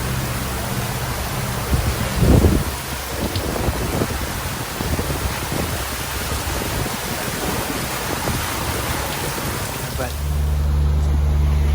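Engines of a Leopard 45 sailing catamaran drone steadily beneath splashing and rushing water, at night, with a brief louder surge early and the engine noise swelling near the end.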